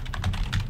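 Rapid keystrokes on a computer keyboard, a quick run of close, crisp clicks lasting under a second with no voices.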